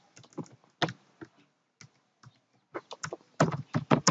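Keys on a computer keyboard are typed in quick bursts of close, crisp clicks, with short pauses between groups of keystrokes.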